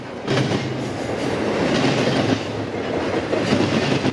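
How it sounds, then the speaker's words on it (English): An intermodal freight train rolls past steadily and loud, a continuous rumble of wheels on rail with rhythmic clickety-clack and no voices. "29G is an intermodal train"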